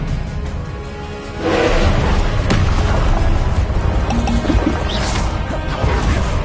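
An Expelliarmus spell impact in the video game Hogwarts Legacy, a loud crashing burst that swells into a sustained rumbling, splashy wash of combat effects, with a few sharper hits and glassy flickers layered on top.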